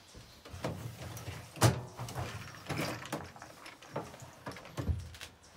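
Several scraping, clunking slides of a metal drawer on a mobile welding trailer being pulled open, with sliding rattles and a sharper knock near the middle, close by.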